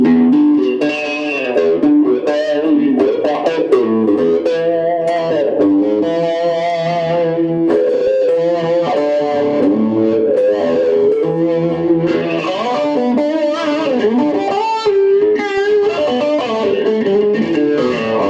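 Electric guitar through a Line 6 POD amp modeler with a heavily processed, distorted tone plays a continuous melodic line with sustained notes and some chordal passages, loud and up front, no voices.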